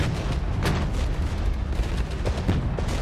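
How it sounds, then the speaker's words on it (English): An artillery barrage in the strategy game Regiments rumbles on as a dense, continuous series of booms and distant shell impacts, low and heavy, with no voice over it. "Drop down our artillery."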